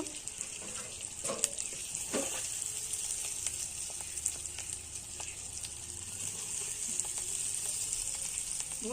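Whole spices and masala for a country chicken curry sizzle steadily in oil in a pan, a continuous loud frying hiss with occasional stirring clicks and scrapes, no talking.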